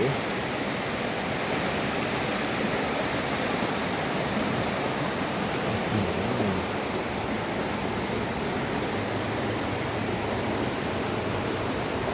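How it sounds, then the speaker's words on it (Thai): Water at Wang Takrai waterfall rushes in a constant, dense roar with no pauses, loud and steady for the whole stretch. "น้ำไหล"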